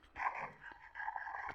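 Dogs growl and whimper in the Minecraft video game, a short rough snarling burst that fades and returns, moderately loud with no talking.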